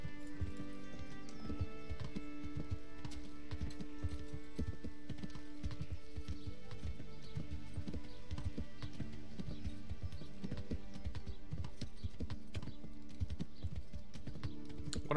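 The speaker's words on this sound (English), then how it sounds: "I'm gonna call my horse." Horse hooves clip-clop steadily in the medieval role-playing game Kingdom Come: Deliverance, a continuous rhythmic trot that stays fairly close over a bed of game ambience and music for the whole stretch.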